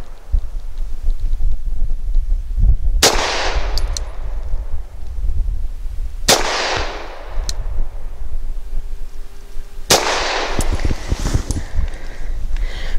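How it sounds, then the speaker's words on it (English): Three sharp, loud pistol shots from a Tisas Zigana F firing Inceptor 65 grain copper polymer rounds, spaced a few seconds apart outdoors, each cracking with a decaying tail over steady wind noise. "starting things off with the Zigana, we're gonna start with the Inceptor 65 grain"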